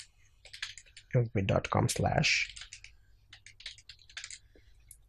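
Quick keystrokes on a computer keyboard, a burst of close, crisp clicks in irregular rhythm, then sparser taps, mixed with a person talking.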